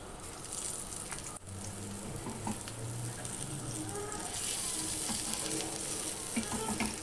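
Slices of brinjal and other vegetables sauté steadily in a pan, a soft continuous sizzle with faint scrapes and a brief knock near the start, close and moderately quiet.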